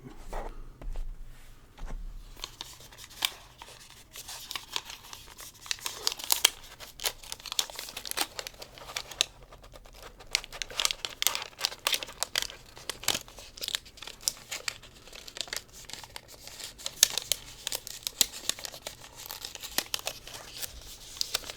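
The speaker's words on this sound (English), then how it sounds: "I have to admit, crinkles never much triggered me, but some people do like the crinkles." Crinkling and tearing of plastic and paper packaging as a new Pixel phone is unboxed, close and fairly loud, with busy irregular rustles and crackles running nearly the whole stretch after a quieter opening.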